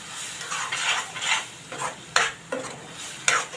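A ground masala paste sautés in oil for a Konkani-style black chickpea curry, sizzling steadily beneath repeated close spatula stirs that scrape the pan in irregular strokes, some noticeably sharper than others, with no voices.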